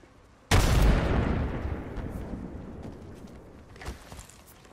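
A frag grenade goes off in the video game Apex Legends: one sudden, loud, close blast that decays into a long rumbling tail, followed by a small thud and quiet background noise.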